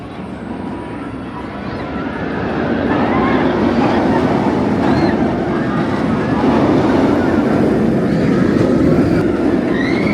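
A cloned-layout Batman Gotham City Escape roller coaster at Parque Warner Madrid rides with a loud, steady rumble and rush of wind, building after a few seconds and holding constant throughout.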